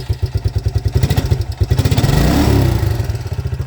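A Suzuki King Quad ATV engine, newly replaced, cranks with rapid chugging pulses, then catches and runs, its rough idle rising and settling into a steady rumble.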